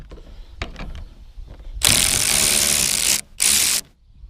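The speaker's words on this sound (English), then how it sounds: "Come in with a swivel socket." Ratchet turning a swivel socket on a bolt during teardown of a Charger engine: faint handling clatter, then a loud close burst of ratcheting lasting over a second, a brief pause, and a shorter second burst.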